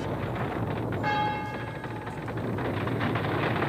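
A single bell strike rings out and slowly decays, heard at a distance over a steady low rumbling background.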